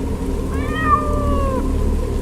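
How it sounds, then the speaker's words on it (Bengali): A cat meows suddenly in a single drawn-out, rising and falling call, close and clear over a low steady background hum. "কোত্থেকে একখানা বিড়াল আচমকা ডেকে উঠল"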